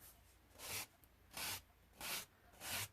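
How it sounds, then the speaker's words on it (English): Sandpaper rubs the rough edges of a wooden 1:12 scale dollhouse piece in four steady, evenly spaced strokes, each a close, bright scratchy swish with quiet pauses between. "we're just going to sand down the rough edges."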